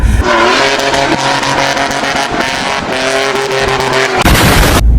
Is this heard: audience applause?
no